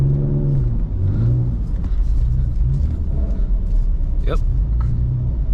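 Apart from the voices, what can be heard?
BMW E39 car drifting in a blizzard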